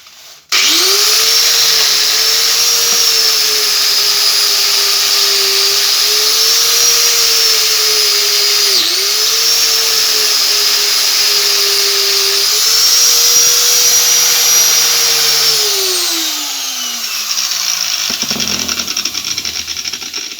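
A power brush scrubs a Bahco 73 adjustable wrench, a steady loud whirring motor drone with slight pitch dips as the brush loads against the tool, running continuously before winding down near the end.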